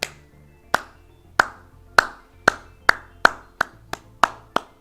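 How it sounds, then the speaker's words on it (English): A single person claps hands, about ten sharp, close claps in a loose, steady rhythm with brief ringing decay between each, no voices. "I don't even know if you can hear my clapping"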